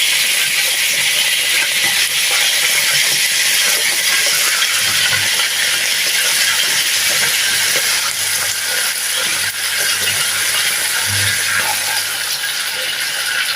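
Loud, constant hissing sizzle of chicken frying in hot oil with a butter mix, steady throughout with faint low bubbling underneath; no voices.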